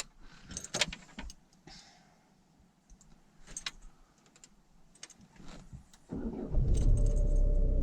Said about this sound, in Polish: a, to renówkę. Zobaczcie jak odpala teraz.